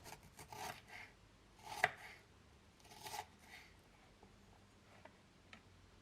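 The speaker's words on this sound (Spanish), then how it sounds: "cortamos medio pimiento verde en tiras y después estas tiras en cuadritos" Soft knife taps on a cutting board as half a green pepper is cut into strips and then small squares, a quiet, uneven run of close chops with a few sharper strikes.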